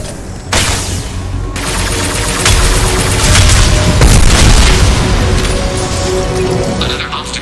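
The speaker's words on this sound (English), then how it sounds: "Firing a high-impact shot!" A high-impact shot fired in Mass Effect 2: a sharp loud boom followed by dense, sustained combat noise and rumbling that stays heavy for several seconds.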